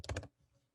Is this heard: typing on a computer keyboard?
yes